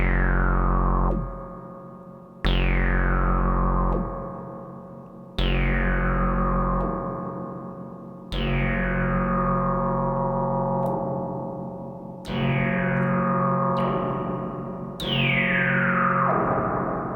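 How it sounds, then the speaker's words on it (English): A synthesizer run through a modular spring reverb tank plays repeated sustained notes, each struck sharply and ringing into a metallic, splashy decay, about seven notes spaced a couple of seconds apart, loud and alone. "even if you didn't know it was a spring reverb, you've heard it before."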